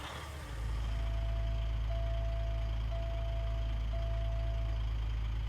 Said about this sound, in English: Let's go ahead and start up this Volvo here.